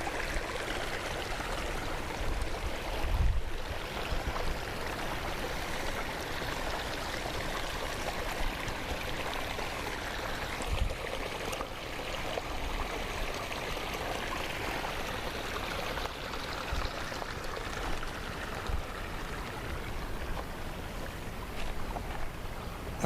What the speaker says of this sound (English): The spring flows year-round at about 5 gallons a minute.